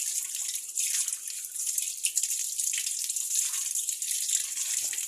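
Water runs steadily in a slow stream over banana plantlets as they are rinsed clean, a continuous close splashing hiss with a few small drips and no talking.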